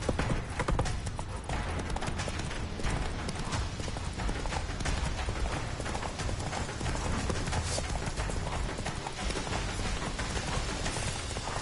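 Roach the horse galloping in The Witcher 3, a dense, continuous drumming of hooves that stays loud and unbroken throughout, with no pause in the run.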